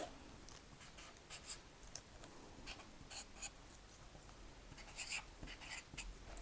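Pencil drawing lines on a paper sewing pattern for a flared skirt, soft close scratching strokes in short irregular bursts, faint and without talk.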